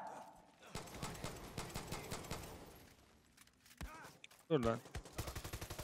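Rapid gunfire from an automatic weapon empties a magazine in the Far Cry 6 shooter, a fast, loud burst of close shots over game ambience, followed by a man's brief speech and scattered further sounds.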